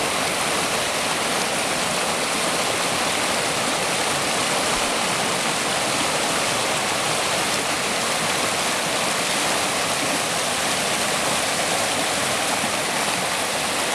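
Creek water rushing over rocks behind a barn, a steady broadband roar like a small waterfall or stream that runs close and loud throughout with no voices.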